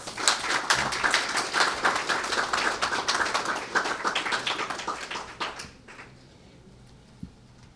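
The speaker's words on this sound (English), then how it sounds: "I would want you to give a good round of applause to both Kimberly Knight and the young lady" A crowd at a youth project launch applauds loudly and steadily, dense clapping that fades out after about six seconds, leaving a quiet room with one faint knock.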